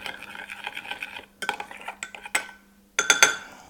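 A spoon clinks and scrapes against a glass or bowl in quick, uneven bursts, close by, stirring gelatin into cold water, with brief pauses between strokes.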